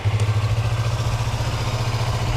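A motorcycle engine idling close by, a steady low throbbing rumble with a slight mechanical clatter, no voices.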